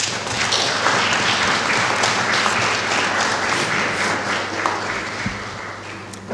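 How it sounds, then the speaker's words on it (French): Audience applause at a genocide commemoration ceremony in Blankenberge, steady dense clapping from a large crowd filling the hall, loud and continuous throughout with no voices over it. "j'aimerais vous demander de l'applaudir pour lui dire merci d'avoir été ici"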